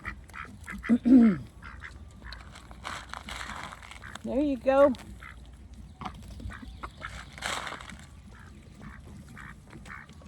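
Ducks quack a few times nearby, short nasal calls, while a person speaks briefly amid soft background rustling in a garden enclosure that also holds a hen.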